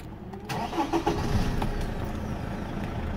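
A Toyota Hilux pickup with around 400,000 km on it cranks and starts, a brief starter whir catching into a medium engine that settles into a steady, even idle close by.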